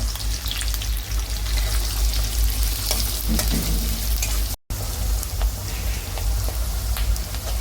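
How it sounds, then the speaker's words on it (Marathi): Onions sizzle in hot oil for Kolhapuri misal with a dense, crackling, rain-like frying hiss and occasional stirring clicks, close up, broken by a very brief dropout midway, without voices. "आता हा कांदा टाकूया हा कांदा लाल होईपर्यंत भाजवूया"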